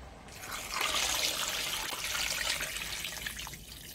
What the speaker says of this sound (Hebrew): כעת אני מוסיפה מי ברז,